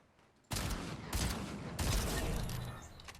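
A Gatekeeper shotgun fires in Fortnite Chapter 5 Season 2, with three heavy, booming blasts at roughly even intervals and a short tail after each.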